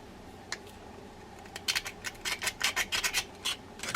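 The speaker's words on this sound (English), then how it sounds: "I'm just using a utility knife as a scraper." Utility knife blade scraping old grease off a Mitchell 396/496 fishing reel: a few isolated scrapes, then a rapid series of short, sharp, close rasping strokes, with no talk.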